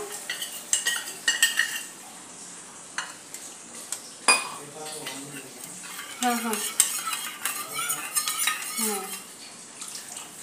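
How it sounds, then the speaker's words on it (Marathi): Cornflour slurry being stirred into cabbage (pattakobi) manchurian in a pan: repeated metal spoon clinks and scrapes against cookware in irregular bursts, close and fairly clear, with a soft background hiss. "अशा प्रकारे यामध्ये स्लरी घालून घेतलेली आहे. मिक्स करूया"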